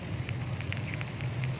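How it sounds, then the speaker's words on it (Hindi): Heavy rain falls on garden plants and cuttings in a steady, dense wash, with occasional brighter droplet splats standing out near the listener; no talking. "हमारे यहाँ बारिश भी शुरू हो चुकी है बहुत ज़्यादा"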